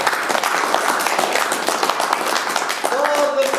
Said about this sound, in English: So give him a little round of applause.